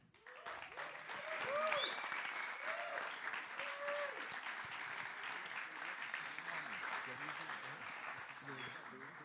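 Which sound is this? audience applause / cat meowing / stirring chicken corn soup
audience applause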